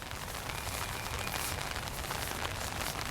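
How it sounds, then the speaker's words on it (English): Pouring rain falls outdoors as a steady, dense hiss that holds even and unbroken from start to end, with no voices. "let's give it a start here in the pouring rain"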